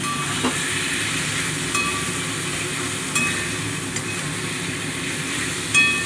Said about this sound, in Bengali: লাল হয়ে আসছে পেঁয়াজটা, মাংসটা অ্যাড করে দিলাম।